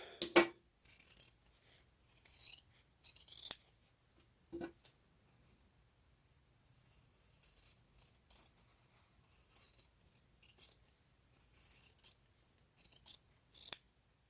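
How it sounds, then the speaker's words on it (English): Scissors snipping through quilting fabric, cutting half-square triangles apart, in repeated bursts of crisp cutting with pauses between, close by, with occasional sharp clicks of the blades. "I'm going to use scissors to cut my half square triangles apart"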